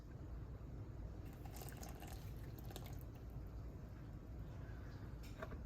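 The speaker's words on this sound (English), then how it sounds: "And then we have 3 tablespoons of melted butter that we have to let cool for just a second, and then we can pour it in and mix it into the crust." Melted butter, three tablespoons, pours into a crust mixture for a Nightmare Before Christmas treat, giving a soft, faint liquid trickle and drip over steady low background noise with no talking.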